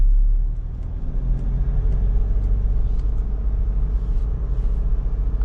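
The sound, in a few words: car driving in third gear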